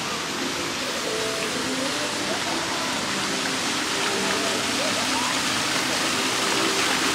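Cold water rushes and splashes in a steady, loud, unbroken wash at an outdoor venue, with a faint voice now and then under the flow.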